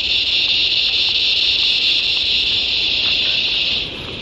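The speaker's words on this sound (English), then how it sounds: "There's cicadas everywhere." Cicadas drone loudly and steadily at a campsite near the Australian coast, a dense continuous buzz that holds for nearly the whole stretch before easing slightly at the end.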